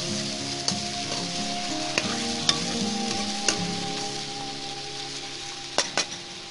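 Chicken roasts in a handi, Champaran style, with no tomato, hissing in a steady broadband sizzle. A spoon stirs through it with scattered metallic clinks and scrapes, while a faint steady tonal hum runs underneath.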